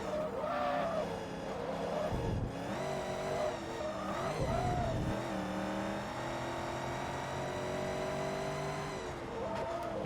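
A Corvette in Forza Motorsport 2 skids as its tires break loose in sixth gear, with a sustained engine drone and sliding tire squeal mixed with shifting revs, loud and continuous.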